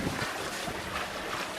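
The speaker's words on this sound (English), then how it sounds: "the wind is just right to just rip through here full sail" Steady wind rushing past a sailboat under full sail, a constant broadband roar of wind noise with water movement beneath, loud and close with no talking.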